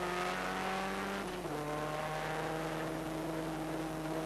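A 1988 production race car engine at speed during a championship round, a steady loud droning whine with a brief dip and shift in pitch at a smooth gear change, continuous throughout.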